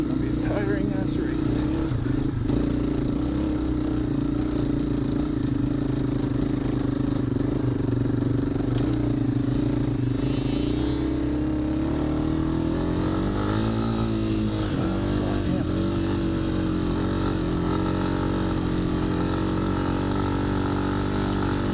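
A dirt bike engine drones and revs continuously through a loose, sloppy hayfield during a muddy spring hare scramble race, loud and close with shifting pitch as the rider works the throttle.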